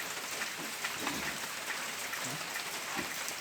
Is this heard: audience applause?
no